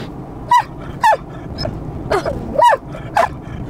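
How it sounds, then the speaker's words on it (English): A dog gives a series of short, sharp barks and yips, six or so at uneven intervals, close by over faint background noise. "Do you know why she's barking?"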